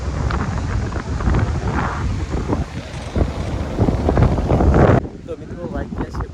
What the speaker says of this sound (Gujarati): દરિયાથી તો ઠંડો પવન આવે